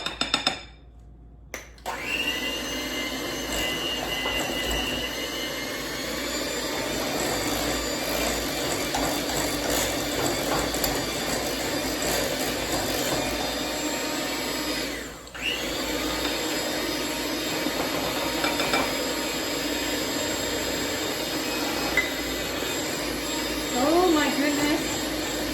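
An electric mixer beats monkfruit sweetener into cream cheese and butter with a steady, close whirring drone that runs almost without a break, stopping briefly just after the start and dipping once midway.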